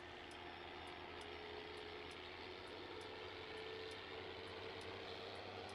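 Tractor engine running in Farming Simulator 19, a steady, low droning hum with an even rhythmic ticking over it, faint and continuous with no talk.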